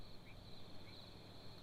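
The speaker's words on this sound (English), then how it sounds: "Let's just play the crickets by themselves." Cricket chirps soloed as a sound-design layer, a steady high-pitched trilling bed that holds evenly throughout, faint and continuous with no voices.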